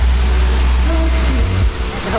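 Encanto Falls in Libmanan, Camarines Sur, a shallow waterfall, roars as a steady broadband rush of falling water, close and loud, while people talk over it.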